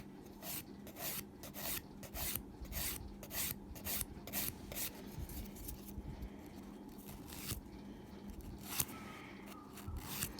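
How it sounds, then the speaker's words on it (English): Acrylic nails being buffed with a nail buffer, worked slowly around the back: rapid, steady rubbing strokes in a close, continuous rasping rhythm with no talk. "Buffing, buffing, buffing. Around the back, just go slowly around the back."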